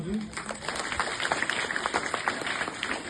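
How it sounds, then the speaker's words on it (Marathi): A crowd at an Independence Day gathering at a village school claps to welcome the anganwadi teachers. The clapping comes as a brief, moderately loud patter of hand claps. "त्यांचं सुद्धा स्वागत केलं पाहिजे सगळ्यांनी टाळ्या वाजून."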